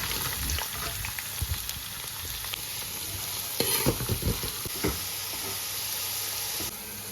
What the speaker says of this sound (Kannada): ನೀರುಳ್ಳಿ ಫ್ರೈ ಆಗ್ತದಿತ್ತೆ